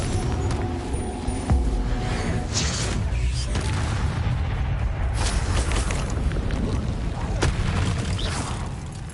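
Booming blasts from the Confringo fire-blast spell in Hogwarts Legacy on PS5 rumble continuously through the clip, dense and loud, with bursts and crackles layered over a low, sustained roar.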